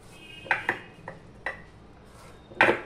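A boti blade slicing green jackfruit into thin strips: five or six sharp, distinct cutting knocks at uneven intervals, close and clear over a quiet background, with the last stroke loudest.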